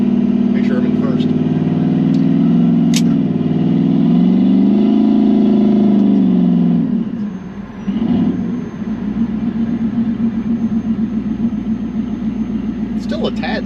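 A Chevrolet Camaro's engine drones loudly in first gear while driving, rising in pitch as it accelerates, then briefly dropping at a shift before settling into a steady, rumbling pull, with someone talking over it.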